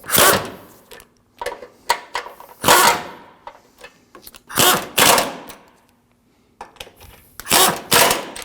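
Bolts on the front bumper impact absorber of a 2013-2015 Subaru XV Crosstrek are run down with a power tool in several loud bursts of rapid ratcheting whir. Short pauses separate the bursts. No one speaks.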